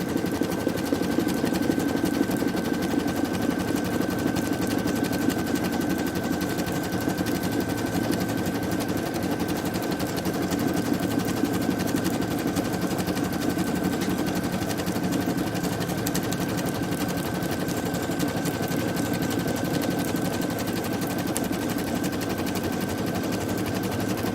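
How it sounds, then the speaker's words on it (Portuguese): An embroidery machine stitching a design runs with a steady, fast mechanical rattle and a faint constant whine, close and continuous for the whole stretch, with no talking. "Agora a máquina vai bordar"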